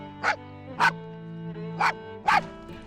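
A small male dog barks four times outdoors on a morning walk by a narrowboat, sharp separate woofs spaced about half a second apart, close and loud over a low steady hum.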